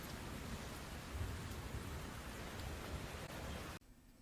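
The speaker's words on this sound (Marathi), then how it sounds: "अजमेरला मुसळधार पावसानं झोडपून काढलेलं आहे" Heavy monsoon downpour in Ajmer, Rajasthan, makes a dense, steady hiss of rain that holds evenly at close range and then cuts off abruptly near the end.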